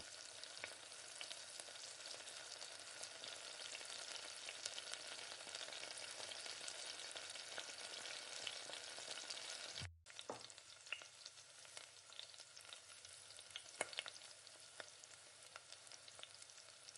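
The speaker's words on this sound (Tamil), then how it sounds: "வெங்காயம் வதங்குறப்ப 2 பச்சை மிளகாயும் சேர்த்து நல்லா வதக்கணும்" Onions and green chillies sauté in a pan for a mutton biryani, giving a steady, faint frying hiss with a brief break partway through and occasional stirring clicks.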